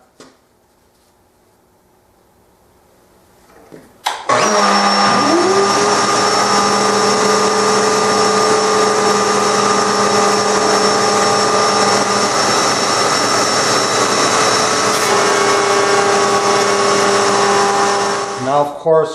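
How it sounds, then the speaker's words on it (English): A router table cutting a bullnose round-over on the end of a wooden case part: after a near-silent start, a loud, steady, high-pitched whine starts abruptly and holds for about fifteen seconds, then winds down at the end. "I've got my router table set up and I'm ready to make the cut."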